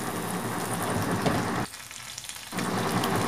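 Shrimp frying in a hot pan with hot sauce being stirred in, a loud continuous sizzle that briefly drops away for under a second before returning at full strength, with no voices.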